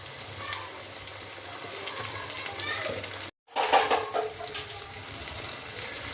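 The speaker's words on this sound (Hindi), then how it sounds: "और अब डाल देंगे हम अपने कटे हुए टमाटर।" Chopped tomatoes hit a pan of lightly browned onions for masala bhindi, giving a steady close sizzle that cuts out for a moment and then returns louder, with a few clatters of stirring.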